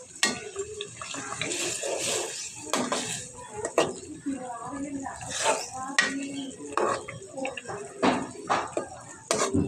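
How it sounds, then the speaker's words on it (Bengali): Hilsa fish frying in a pan for a spicy fish curry, with clattering of utensils against the pan, stirring and a steady sizzle running throughout, close and fairly loud. "মাছটা ভাজি করা"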